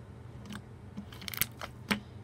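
Crunchy strawberry slime poked with fingers, giving a handful of close, crisp crackling pops in an irregular rhythm against a quiet room.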